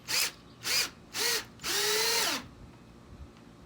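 A power drill pre-drilling and driving screws into header boards on top of a wall-mounted fireplace frame, three short close bursts followed by one longer whirring run, then quiet.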